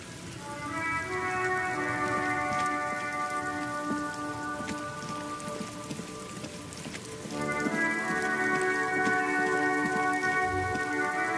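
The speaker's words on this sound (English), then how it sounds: "Stuck in the rain in a traffic jam," Steady rain falls in the game Disco Elysium, a continuous wash of drops heard alone with no talk, joined by sustained tonal ambience or music layered over it and swelling again near the end.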